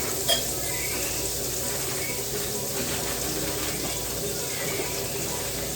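Butter sizzles in a skillet with a steady, moderately loud hiss. A sharp clink sounds near the start, and the frying then continues evenly with no voices.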